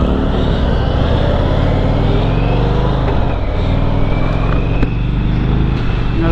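Loud, continuous engine drone and wind rush from an Indian Springfield Dark Horse motorcycle while riding on the road, steady throughout with slight shifts in pitch.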